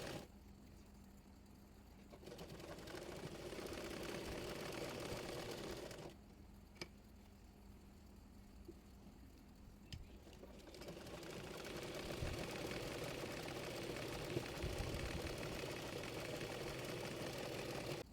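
A sewing machine stitches the body side seam of a kameez in bursts of steady mechanical whirring, running for a few seconds, pausing briefly, then resuming for a longer stretch, close and fairly quiet with no talk.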